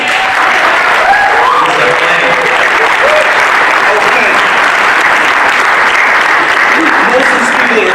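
Sustained applause from an audience at a Bayonne Zoning Board meeting on a mosque project, a dense, steady roar of clapping throughout with someone talking over it.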